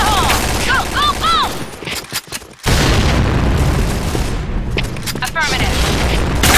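Heavy blasts and gunfire in a shooter video game, a dense barrage of booms with a sudden cut to near silence, then another loud explosion and continuing fire, with shouted voices mixed in.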